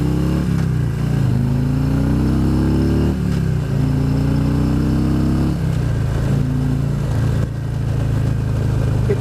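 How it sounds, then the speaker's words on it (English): Motorcycle engine opened up to blow the pipes out, loud and close, rising revs that drop back and climb again several times over a continuous rumbling drone, no talking. "Sometimes you got to open the bike up, blow the pipes out a little bit."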